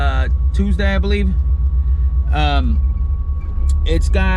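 A Coyote-swapped Foxbody Mustang with dumps or turn-downs idles in a garage, a deep steady rumble running constantly beneath someone talking.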